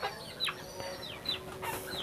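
Recovering chickens, treated for respiratory illness (CRD and coryza), cluck and chirp in short bursts close by over a steady farmyard background, with no talk.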